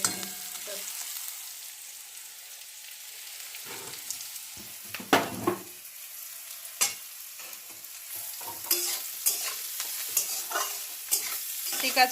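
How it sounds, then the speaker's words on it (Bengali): Onions frying and being stirred in a pan, a soft sizzle broken by irregular scraping strokes that grow busier toward the end, with a brief spoken word near the start. "এখন আপাতত পেঁয়াজগুলো ভাজা হচ্ছে।"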